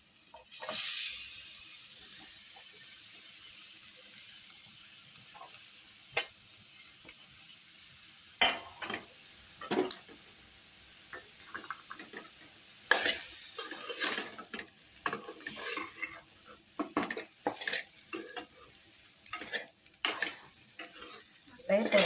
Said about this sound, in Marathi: आता मी याच्यात बटाटे टाकते